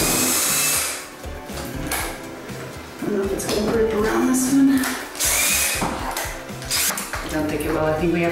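Power drill working at a stripped screw while converting a guest room into a closet, whirring in repeated bursts with short pauses, accompanied by clattering of tools and people talking nearby.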